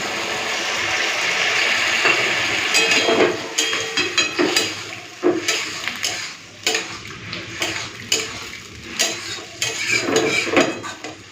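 Water poured into a pan of boiled potatoes and okra, with stirring, scraping and clinking of a utensil against the pan, a soft sizzle underneath and several sharp knocks near the close.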